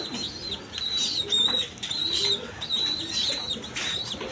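Original racer pigeons of the down shape line, kept with their chicks, give low cooing murmurs under steady, faint chirpy background noise throughout.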